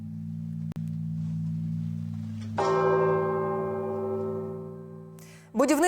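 A large bell at a national reserve rings out loud and close, with a steady low hum, a sharp second strike, and a long ringing decay before a voice begins at the end.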